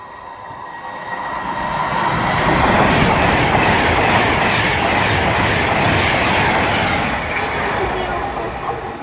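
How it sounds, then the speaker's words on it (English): A Virgin Pendolino express passes at speed through Winsford station on the West Coast Main Line. It gives a loud, sustained close roar with rhythmic wheel clatter, swelling and then easing off across the pass. "preparing to pass through now is going to be a Virgin Pendolino from Liverpool Land Street to London Euston."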